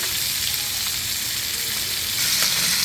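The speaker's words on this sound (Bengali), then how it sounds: "আমার মাছগুলো ভাজা হয়ে গিয়েছে" Large koi fish fry in hot oil in a pan, a loud, steady, close sizzle with a dense hiss that holds evenly throughout and has no talking over it.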